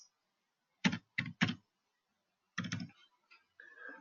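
Computer keys are tapped while details are entered into an online form. The taps come close and clear in short clusters of two or three separated by silent pauses, and there is no talk.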